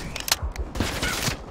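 Video game gun firing bursts during an online match, sharp rapid cracks in quick clusters, loud and close, with brief gaps between volleys.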